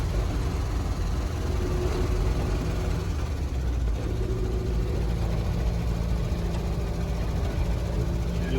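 A milk float climbs a hill with its engine working hard, a steady loud drone holding from start to finish.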